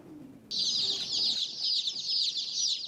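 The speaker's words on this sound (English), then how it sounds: "That is the sound of day-old chicks ready to be sold" Dense, continuous high-pitched peeping from many day-old chicks at a feed store, loud and close, starting abruptly after a faint low murmur.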